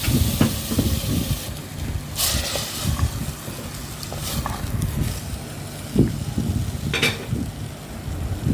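Moong and masoor lentils with ginger and garlic sizzle and hiss in a hot pan, a steady frying crackle up close, broken by occasional scraping and stirring.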